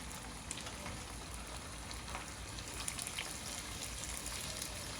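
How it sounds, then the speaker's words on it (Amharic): Flour-coated fish fries in hot oil in a pan, giving a faint, steady sizzle with a few small pops throughout. "ቁሌት ውስጥ ተከተችን እንጠብሳለን ማለት ነው።"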